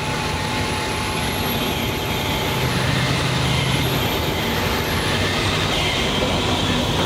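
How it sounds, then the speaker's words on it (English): A heavy truck hauling a fragile house before sunrise near roadworks, its engine straining with a steady, loud high-pitched roar and whine that continues without a break, with no talking. "the truck's engine is screaming"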